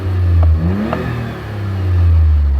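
The small three-cylinder engine of a Smart Crossblade revs up twice in quick succession, each rise a loud, close, buzzy climb that settles back between bursts, with light clatter underneath.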